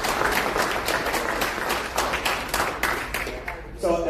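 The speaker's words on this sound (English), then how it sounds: "So let's give a round of applause to our military." A crowd at a Republican Renewal Summit at Rider University in Lawrenceville applauds the military: loud, sustained clapping with crisp individual claps standing out, tapering off near the end.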